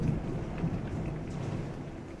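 Rain falls steadily in a thunderstorm, a soft continuous hiss layered over low rumbling, faint and distant with no voices.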